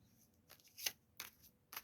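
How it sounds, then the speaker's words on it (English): A small, oversized deck of cards being shuffled, giving a few faint, brief riffling bursts spaced apart in a quiet room. "This deck is impossible to shuffle."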